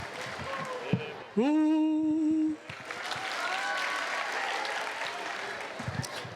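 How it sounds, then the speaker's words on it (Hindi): A crowd at a Hindi comic song performance breaks into loud, lively clapping. A brief sustained whistle-like tone comes early, then the applause carries on thickly with scattered voices. "तालियां भी बजाते हैं।"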